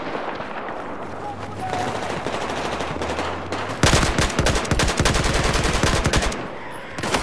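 Machine gun fire rattles through a Battlefield 4 match, starting with steady distant bursts and swelling into a louder, rapid, close stream of shots before tapering off.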